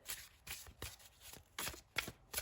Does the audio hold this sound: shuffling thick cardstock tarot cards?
yes